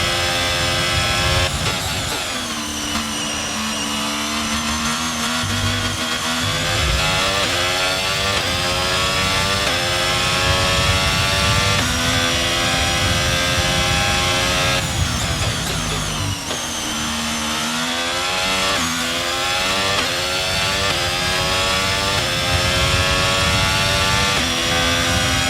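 Formula 1 car engine in the F1 22 racing game, a loud, continuous high-pitched whine that rises and falls through gear changes and revs across the whole stretch, with no talking.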